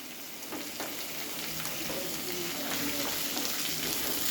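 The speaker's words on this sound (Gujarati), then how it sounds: "હવે આ બધી સામગ્રીને તમારે સારી રીતે સાંતળી લેવાની છે" Tomatoes, cashews and melon seeds sauté in a pan for shahi paneer, a soft, continuous sizzle with faint stirring scrapes and no talk.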